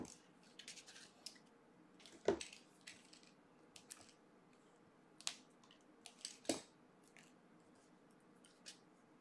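Scissors cut card stock for a Christmas card in a quiet room, giving faint, sparse snips and crunches, with two sharper cutting sounds standing out among softer paper rustles.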